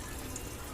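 Strong rush of water pouring into a DIY pond filter box, a steady, dense gush that fills the moment without pause, close and loud.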